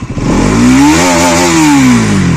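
Bajaj Pulsar NS200 motorcycle engine revving hard in first gear, the loud, close engine note climbing steadily in pitch and then easing slightly, with a rough mechanical clatter underneath.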